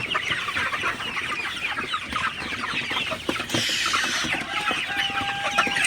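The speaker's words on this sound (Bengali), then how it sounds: "মুরগির পানি খাওয়ার দৃশ্য সেটাই আপনাদের সাথে শেয়ার করলাম" Sonali super hybrid chickens cluck and murmur continuously close by while drinking water, with scattered scratching and pecking noises in a busy farmyard.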